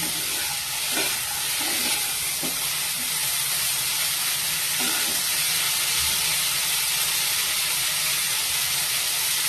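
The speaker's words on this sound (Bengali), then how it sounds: "ওটাকে কড়াতে তেল দিয়ে নেড়ে চেড়ে ভেজে নিচ্ছি" Boiled figs, potatoes and chickpeas frying in oil in a wok, a loud continuous sizzle and hiss throughout with a few faint stirring knocks underneath, no talking.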